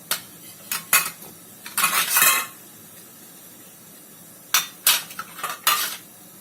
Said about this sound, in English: So you can just take some oil and brush the idli tray.